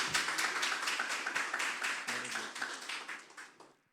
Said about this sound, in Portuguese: Vamos aplaudir o Senhor por essa palavra?